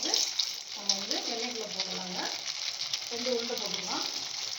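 Potato and bread balls deep frying in hot oil, a steady bright sizzle and crackle filling the clip from start to end, loud and close, with faint voice-like tones drifting underneath.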